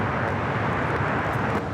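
An airliner takes off from runway 25 at Los Angeles International Airport, its engines a loud, continuous broadband roar with heavy low rumble and wind buffeting, steady throughout.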